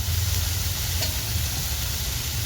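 Takla wild-vegetable sabzi is stirred in a hot pan, with a continuous close sizzle and soft scraping under a steady low rumble and no speech.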